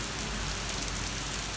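Heavy rain pours at night during a thunderstorm, with large drops hitting surfaces in a dense, even hiss, close and steady, without voices.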